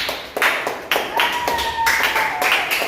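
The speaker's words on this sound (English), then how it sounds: "Let's give them a round of applause." A small group claps after a presentation on a laptop and projector setup, with distinct, uneven handclaps near and fairly loud, and a faint steady tone running partway through.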